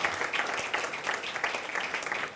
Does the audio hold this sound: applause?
yes